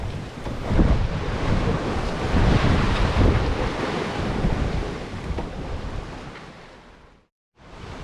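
Rough sea waves surge and wash against a sailing boat crossing the Bay of Biscay, with steady gusting wind buffeting the microphone, loud and continuous before a brief drop-out near the end.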